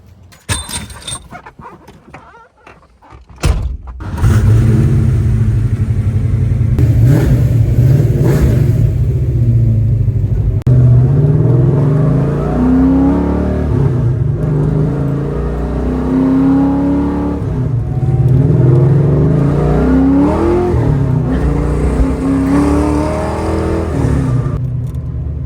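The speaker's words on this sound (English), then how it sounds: "Anytime I can get a chance to drive in my street car," A street car engine rumbles steadily while driving, with repeated revs rising and falling over a continuous loud drone after a brief quieter start.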